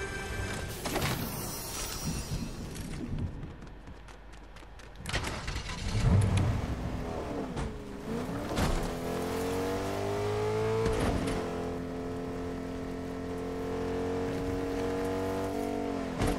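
Car engine in the Fortnite video game revs and accelerates, with rising whines and gear shifts, a rumbling drive, and what sounds like rain on the vehicle, continuous and fairly loud.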